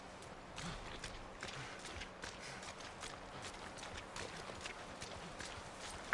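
Horse hooves clip-clop in The Last of Us Part I video game, a quiet, steady walking rhythm of soft hoof strikes over a faint background hum.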